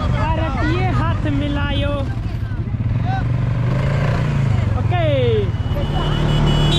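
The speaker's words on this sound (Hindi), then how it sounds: "ये क्वेड बाइक हम लोग खुद चला रहे हैं" Quad bikes run over the desert sand dunes at Sam near Jaisalmer, engines droning steadily up close while people talk and shout excitedly over the motor noise throughout.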